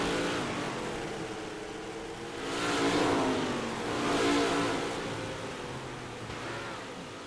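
Big-block modified race cars in a racing simulator game roar steadily at moderate volume, with engine pitch rising and swelling twice as the cars accelerate, a constant mechanical drone underneath.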